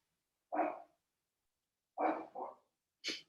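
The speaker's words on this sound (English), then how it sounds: "There's a dog in the background." A dog barks in the background: one bark, then a double bark a little later, then a sharper yip. They sound moderately close but faint, with silence between them.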